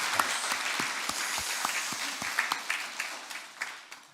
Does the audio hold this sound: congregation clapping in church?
yes